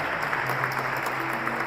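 Audience applause at a youth vigil devoted to Our Lady in Samambaia, a steady mid-level patter of many hands clapping throughout, with no voices over it.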